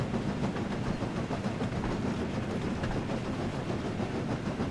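Steady rumbling train chugging from the Thomas & Friends Wonders of Sodor game, a continuous dense hiss and clatter holding an even level throughout with no pauses.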